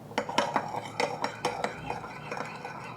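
A spoon stirs sugar into a sauce for wat tan hor fun, giving a run of light metallic clinks and scrapes against a bowl that recur in a loose rhythm, close and fairly quiet.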